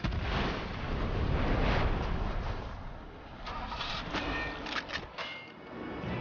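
A jeep's gas tank bursts in the shooter game Crysis, giving a dense roaring blast that rolls on for several seconds and fades, with a few sharp cracks and pops of debris or gunfire near the end.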